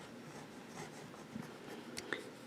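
A fountain pen nib moves across paper, leaving faint scratchy strokes in short bursts with small ticks, close and quiet, with no one speaking.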